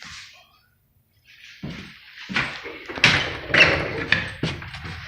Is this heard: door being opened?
yes